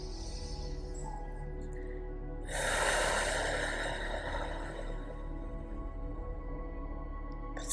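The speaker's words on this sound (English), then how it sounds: "And then taking one deep, long breath." A deep, long inhale and exhale during a slow yoga relaxation, rising as a soft airy swell and then fading into a quiet, still room with no talking.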